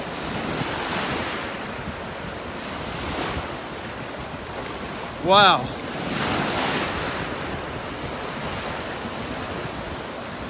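Surf rolls in steadily on a beach in North Naples, Florida, a continuous wash of waves mixed with wind buffeting the microphone, and one person briefly exclaims partway through.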